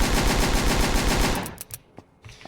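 The MP9 Evil submachine gun in the game ANEURISM IV fires a loud, rapid automatic burst for over a second, then stops, followed by a few scattered clicks and small impacts.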